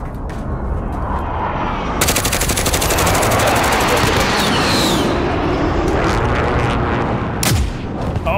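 Rapid automatic gunfire from a Call of Duty: Modern Warfare match rattles loudly in dense bursts, with a sharp sweeping sound near the end.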